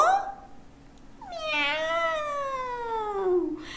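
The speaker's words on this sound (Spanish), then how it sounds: "¿Cómo dice el gato?" A single drawn-out cat meow, rising then slowly falling in pitch, fairly close and clear, heard on its own after a brief faint vocal sound.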